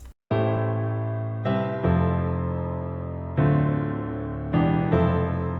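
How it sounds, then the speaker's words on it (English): Full, heavy piano chords with deep bass doubled an octave down, struck one after another and left ringing, clear and close with no voices. "just copy the bass notes and then paste them an octave down"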